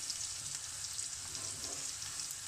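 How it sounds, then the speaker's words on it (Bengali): Onion and garlic frying lightly together in a pan for seafood pasta, giving a soft, even, continuous sizzle at low volume. "পেঁয়াজ রসুন একসাথে ফ্রাই হচ্ছে"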